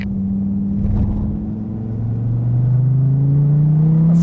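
A Dodge Viper accelerates hard along the front straightaway at Mazda Raceway Laguna Seca, its loud, steady engine note climbing in pitch as the revs rise past 5,000 RPM, close and continuous throughout.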